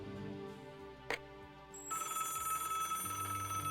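Telephone in the video game Broken Sword: The Shadow of the Templars rings, a faint electronic ring under a sustained musical score that swells midway, with no talking.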